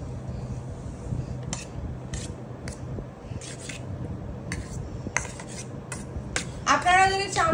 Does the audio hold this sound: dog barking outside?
no